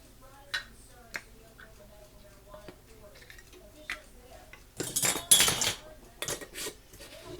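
Glass canning jars clink and tick against each other and a metal canner while being handled for canning collards with smoked neckbones, a string of short, sharp knocks with a denser clatter around the middle, fairly close and alone.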